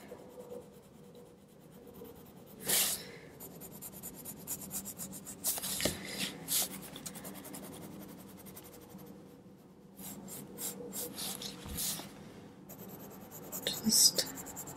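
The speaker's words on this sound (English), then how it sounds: "adding a few pencil lines here and there in the back" Colored pencil scratches and rubs across paper in short, uneven bursts of shading, close and fairly quiet, with soft talking underneath.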